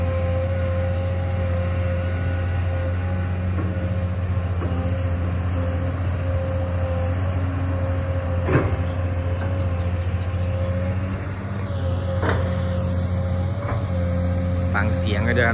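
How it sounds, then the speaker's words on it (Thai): An excavator digs a pond on a farm in Krasang, Buriram, with a steady, rumbling diesel engine hum that revs at times, accompanied by occasional clanks and someone talking over it. "เราอยากให้ดูรถขุดกันครับเนาะให้ดูการทำงานของรถขุดของพวกเรากันไปครับ"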